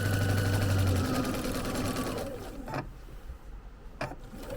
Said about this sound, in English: I'm stitching up the center stem first.